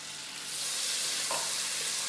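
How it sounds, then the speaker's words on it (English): Butter sizzles and spits loudly in a hot pan of oil while dal makhani is being made, a steady close frying hiss that swells after a brief quieter start. "And now I'm going to add the butter."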